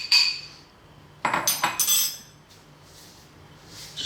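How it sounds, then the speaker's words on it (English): A knife chops boiled eggs for a potato egg salad, giving a few sharp close taps and clinks bunched together in the middle, with quiet gaps on either side and no talking. "I've got my boiled eggs there and I just chop them up."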